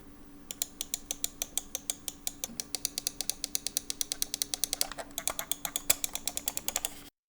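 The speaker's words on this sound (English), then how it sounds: "The scroll wheel is light, dare I say rattly, with extremely faint steps." The scroll wheel of a Nixeus Revel gaming mouse is spun, giving a rapid, even train of light, rattly clicks close to the mic that runs steadily for several seconds.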